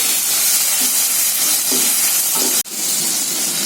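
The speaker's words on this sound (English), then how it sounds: "now I am going to add chopped tomatoes and I am going to fry it for few seconds" Chopped tomatoes fry in a pan, a loud, steady sizzle with faint stirring scrapes, broken by one sharp click near the end before the frying hiss resumes.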